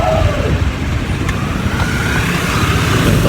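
Continuous engine drone and road noise from a car being driven, steady and fairly loud throughout with no talking.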